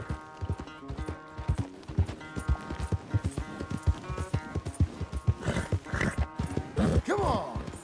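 Horse hooves clip-clop in a steady galloping rhythm in the Red Dead Redemption video game, close and loud, with music and occasional whinnies mixed in.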